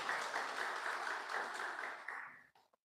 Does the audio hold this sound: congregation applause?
yes